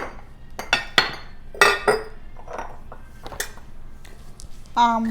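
Glass bottles in a home kitchen clink and knock together in several sharp, bright taps spread irregularly, fairly close, with a voice speaking briefly at the end.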